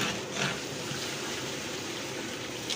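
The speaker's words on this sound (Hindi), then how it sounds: "इसके बाद हम पानी डालेंगे।" Water is poured into a large cooking pot holding nine kilos of sugar, making a faint, continuous gushing trickle with a couple of brief splashy surges and no talk.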